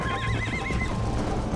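A horse in the Red Dead Redemption video game gives a wavering whinny while its hooves keep up a steady clip-clop beneath, close and loud, with no talk.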